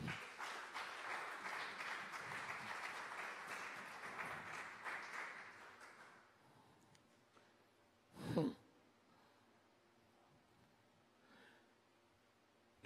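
A church congregation applauds during a French sermon. Dense, moderately loud clapping fills the first six seconds and then fades out, leaving near silence broken by a brief breathy sound.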